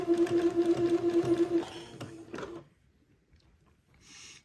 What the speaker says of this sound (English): I'm going to begin to zigzag this folded part of the diaper cover